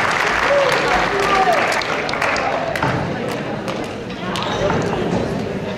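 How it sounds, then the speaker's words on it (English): Audience applause fills a school's 8th grade academic awards session: steady, dense clapping from a crowd, continuous and fairly loud throughout, with faint voices mixed beneath it. "So let's give one more round of applause."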